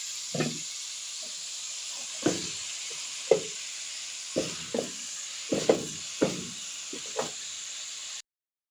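Cabbage leaves and corned beef steaming in a pan, giving a steady soft hiss with a few louder sizzling bursts and stirring scrapes spread across the clip.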